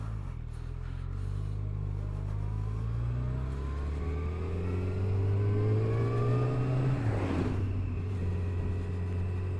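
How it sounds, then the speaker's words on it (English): A motorcycle engine revs up steadily, its pitch climbing over several seconds before a gear shift drops it back down, then it climbs again. "Bike is going. RPM going up. You can hear the bike."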